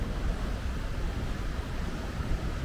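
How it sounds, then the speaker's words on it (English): Ocean waves washing against slippery rocks at a South Australian beach, a steady broadband roar of surf with low rumble, close and continuous with no talking. "that water rises when you see the waves come in about 3 meters."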